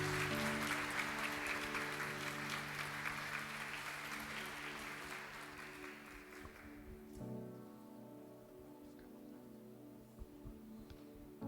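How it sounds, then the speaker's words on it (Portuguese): Church congregation applauding at an evening service, a dense wash of clapping that fades out midway, with a sustained low tone underneath and quieter room sound after. "Vamos receber o servo do Senhor com uma linda salva de palmas"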